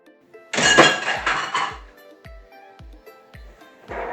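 Vegetables and shrimp for a stir-fry are tipped into a mixing bowl with a scraping rustle, followed by a series of sharp, evenly spaced clinks of dishes and utensils, close and clear.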